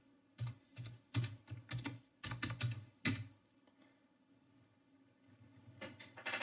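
Fingers typing a sudo password on a computer keyboard, about a dozen quick close keystrokes in two bursts followed by a quiet pause, with no talking.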